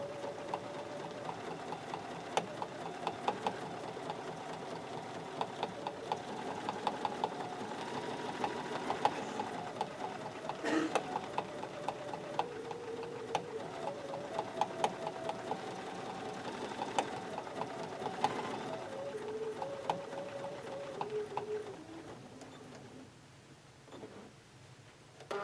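A sewing machine quilting circles runs steadily for a long stretch with a fast, even mechanical chatter and light ticking, close and fairly quiet, before it slows and stops near the end.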